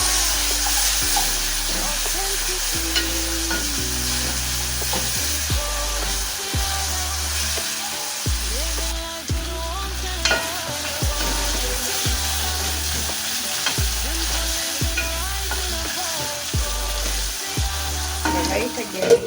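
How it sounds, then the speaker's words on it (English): Chopped onion fries in a lidded cooking pot for a mutton and greens dinner, giving a loud, continuous sizzle broken by repeated scrapes and flips of a wooden cooking stick. "to allow the onion to be translucent and turn golden brown"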